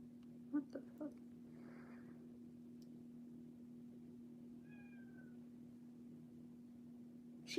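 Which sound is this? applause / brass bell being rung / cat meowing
cat meowing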